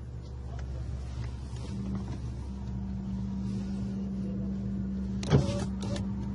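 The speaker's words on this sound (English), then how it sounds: "Roll down the window." Car power window motor whirring as a side window rolls down during a roadside stop with a dog present, a steady hum over low engine idle and a brief sharp knock near the end.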